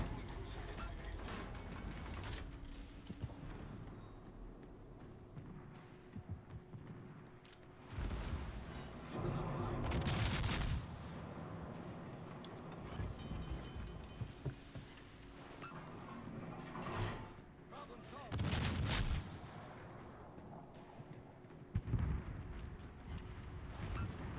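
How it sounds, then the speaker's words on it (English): A warship's main guns firing at a battleship in a naval video game, heavy booming salvos at irregular intervals over a constant rumbling engine and sea background, fairly distant and muffled, no talk. "right now we're just pelting a battleship with our main guns, trying to start fires on it"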